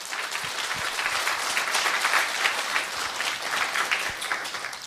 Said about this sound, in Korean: 2020년 새해를 허락하신 하나님께 우리 감사와 영광의 박수를 올려드리겠습니다.